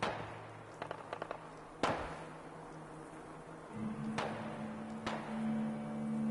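A signal flare fired in a PS4 video game, heard as a sharp broadband burst followed by further bright cracks and a sustained hissing hum, with a few faint clicks beforehand, all at moderate level in a quiet scene.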